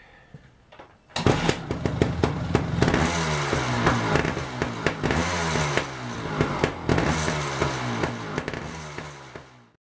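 A repaired motorcycle engine, which had a no-spark fault and was kick-started, fires up after a second of quiet and runs loudly and steadily up close, with sharp rhythmic popping exhaust pulses until it cuts off near the end.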